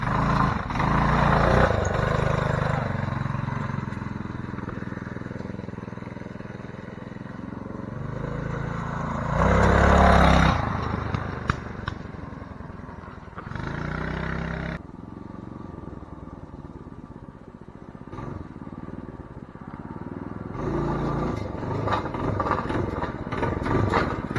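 A homemade, budget-built wheelie trike with its engine running steadily while it is ridden, a loud continuous drone that rises and falls with throttle, close by and alone.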